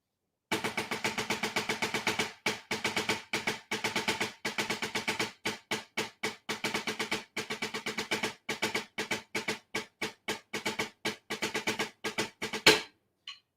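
Measures 5 and 6 of an all-state percussion etude played with a light pulse: steady, rapid struck notes in short grouped bursts with tiny pauses, running for about twelve seconds, close and clear with no voices.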